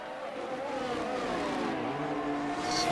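A single-seater race car on the straight at Bahrain, its engine a loud, continuous high-pitched drone that climbs steadily in pitch through the gears with no voices over it.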